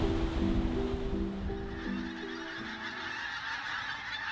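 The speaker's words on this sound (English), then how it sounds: "the arrival of tens of thousands of pink footed geese, the noisy skeins flying overhead" Many pink-footed geese honk repeatedly overhead on the North Norfolk coast, a noisy layered chorus that fades gradually as the flock moves away.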